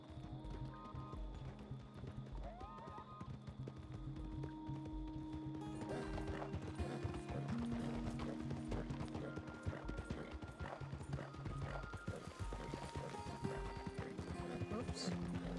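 A small Arabian horse's hooves clip-clop in a steady walking rhythm over a dense, busy background of music and ambient noise, with a voice talking over parts of it.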